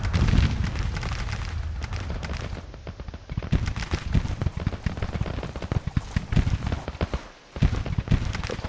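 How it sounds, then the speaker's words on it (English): Napoleon cannons fire in the Grand Tactician Civil War game at the Pea Ridge battle, a dense, rolling mix of booming shots and crackling fire that runs throughout without talk. "Napoleons are firing."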